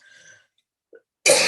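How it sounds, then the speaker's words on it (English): A man with a bad cold gives one short, close, harsh cough after a moment of quiet, preceded by brief faint sounds. "I have a terrible cold cough"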